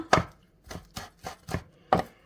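Knife chopping fresh herbs such as parsley or dill on a board, six crisp close chops in an uneven rhythm with short pauses between them.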